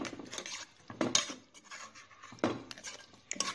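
Spoon knocking and scraping in a pot as meat and tomato juice are stirred together, a few distinct clatters close by with nobody speaking.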